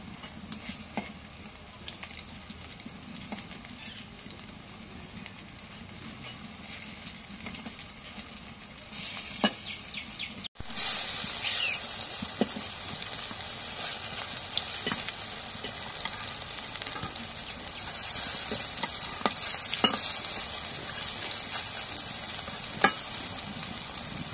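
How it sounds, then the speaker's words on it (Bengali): Sliced onions sizzle and crackle steadily in hot oil in a pan, with scraping stirs as they are turned; the frying grows louder and brighter partway through and runs on without any talk. "এখন পেঁয়াজগুলো উল্টাই দিই।"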